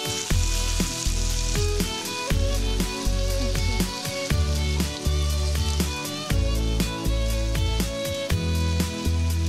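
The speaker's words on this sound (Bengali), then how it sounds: "আলু যেটা অলরেডি ভেজে রাখা হয়েছে ওটা আমরা এর মধ্যে দিই" Already-fried potatoes go into a hot pan of ol chingri ghonto, a Bengali yam and prawn dish, sizzling and crackling loudly and continuously with rhythmic stirring knocks and music playing over it.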